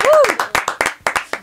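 Audience applause for a guest singer at a live comedy show: a short run of sharp, evenly spaced claps, fairly close, with a voice talking over the start.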